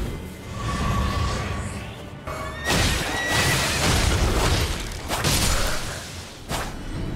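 A horse in the video game Elden Ring neighs amid loud, busy combat noise of thuds, whooshes and impacts, with a brief whinny early on and repeated heavy stomps and crashes throughout.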